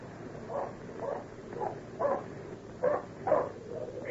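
A dog barks in a period drama audio play, about six separate barks spaced roughly half a second apart, muffled and mid-distance over a quiet background hiss.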